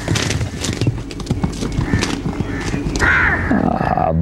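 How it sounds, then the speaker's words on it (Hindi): A horse runs with rapid clip-clopping hooves and lets out a neigh near the end, loud and close, mixed with voices and drama-style sound. "रंगली से कहो यार कि घोड़ा जरा संभाल के दौड़ाया करे"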